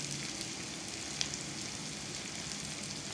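Onions sautéing in oil for a fish roe fry, a steady soft hiss and sizzle from the pan, faint and continuous with no talk.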